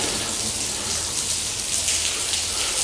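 Heavy rainstorm drumming inside an abandoned railway tunnel, a loud, dense, continuous hiss of falling water and splashing with no letup.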